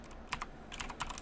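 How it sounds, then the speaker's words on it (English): Quick keystrokes on a computer keyboard, a short burst of uneven clicky taps heard up close with no talking over them. "This keyboard's difficult to type on once you go from a Model M."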